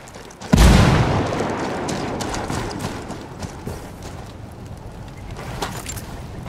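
A grenade explodes in the video game Ghost Recon Wildlands with a sudden loud boom, followed by a long rumbling, crackling decay that fades over several seconds; no speech.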